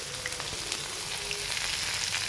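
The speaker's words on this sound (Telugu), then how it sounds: "ఇప్పుడు ఇందులోకి ఉల్లిపాయలు, పచ్చిమిరపకాయలు వేస్తున్నానండి." Chopped onions and green chillies fry in a hot pan for a potato fry, giving a steady, close, even sizzle with faint crackles throughout.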